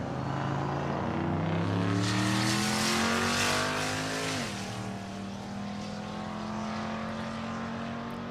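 At a Race Week drag strip at Thunder Valley in Noble, Oklahoma, a GMC truck and a Chevrolet C10 launch down the track, their engines roaring loudly and rising in pitch through the gears before the sound fades off into the distance.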